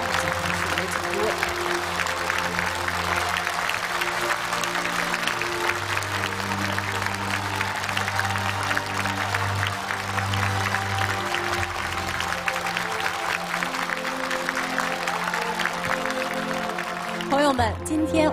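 A studio audience at a televised tribute to the 1994 Romance of the Three Kingdoms TV series gives sustained, full applause over steady music, and the clapping thins out near the end.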